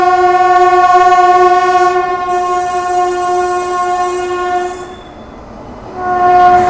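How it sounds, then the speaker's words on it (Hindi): A train arriving at Kanpur Central, hauled by a WAP-7 electric locomotive, sounds a loud, sustained multi-tone horn close by over the rumble of moving rail cars, the horn dipping briefly and swelling again near the end. "सामने से कोई ट्रेन आ रही है वैप 7 के साथ में, कानपुर अराइव कर रही है"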